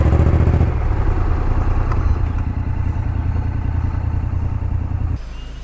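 Honda X-ADV 750 motorcycle engine idling in a parking area, a steady low rumble close by that drops in level near the end.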